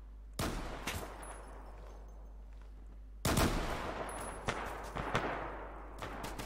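Machine gun fire in a World War I military roleplay game, two bursts of rapid distant shots, each starting with a sharp crack and trailing off into scattered reports, moderately quiet.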